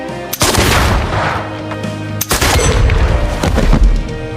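Gunshots in a film duel, fired between two men standing on either side of a screen: two loud, sharp blasts about two seconds apart, each trailing off into a reverberant rumble.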